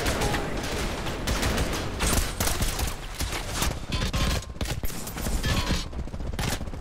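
Sustained minigun and gunfire in the first-person shooter Trepang2, a loud, relentless rattling barrage with dense overlapping shots and brief lulls.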